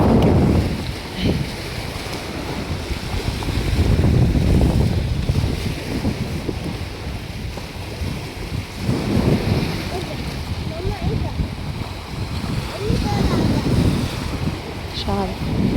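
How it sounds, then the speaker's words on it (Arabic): Gentle winter waves washing in at Abu Talat beach, a steady wash of surf with gusty wind buffeting the microphone and swells rising and falling in soft surges, with faint voices now and then. "الموجة بترمي حاجة بسيطة قوي زي ما احنا شايفين كده اهي"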